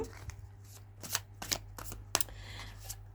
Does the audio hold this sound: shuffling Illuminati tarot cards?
yes